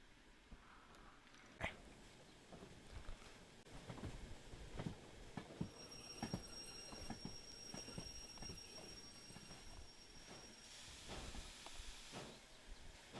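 A locomotive in the Derail Valley VR game rolls along with a low rumble, a steady hiss and regular clicking rail joints, plus a high whine toward the end and a sharp knock near the start.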